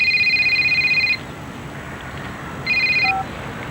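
A mobile phone rings indoors with a synthetic two-tone electronic trill in two clear bursts, the first about a second long and the second shorter after a pause, loud over a quiet room with no talking.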